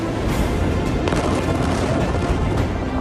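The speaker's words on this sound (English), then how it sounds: "A second massive explosion that some described as like an earthquake." Massive explosion recorded by nearby residents amid raging fires, heard as a loud, continuous deep rumbling roar that stays dense and sustained throughout, with no talking.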